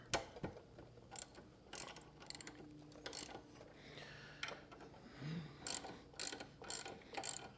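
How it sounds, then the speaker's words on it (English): A 3/8-inch ratchet with a 13 mm socket loosens a motorcycle brake caliper on a bike held up on stands, giving quiet, close bursts of rapid clicking with short pauses between strokes. "I have my trusty 3/8 ratchet with a 13 mil socket. And we're just going to go ahead and loosen up this caliper."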